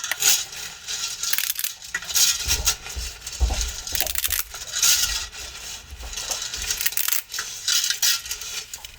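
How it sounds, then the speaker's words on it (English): Dry linguine being snapped in half and dropped into a pot, giving a run of crisp cracks and rattling clatter as the pieces hit the pot, close and steady over several seconds. "I usually break the linguine in half because this has got to cook down"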